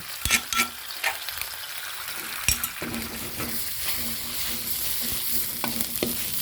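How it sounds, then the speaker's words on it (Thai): Chili paste is stir-fried in reduced coconut milk for pork panang with pea eggplants: a constant bubbling sizzle with repeated sharp clacks and scrapes of a spatula against the pan. "เราก็จะเอาพริกลงไปค่ะ พริกลงมาผัดค่ะ"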